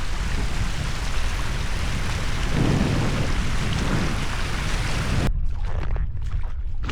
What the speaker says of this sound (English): You got a baby saltwater waterfall here.